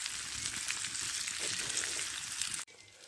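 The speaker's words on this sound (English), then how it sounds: "So while that's sizzling away" Food sizzles steadily while frying over a campfire during bushcraft wild-camp cooking in Scotland, a close, continuous crackling hiss that ends abruptly.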